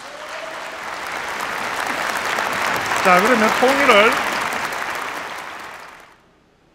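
Lecture audience at a Korean peace and reunification forum applauds in a sustained, dense wash of clapping that swells midway and stops abruptly near the end, with a voice speaking over it.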